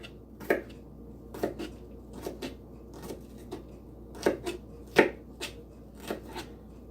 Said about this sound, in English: I'm going to use this onion piece. But we'll just cut this up.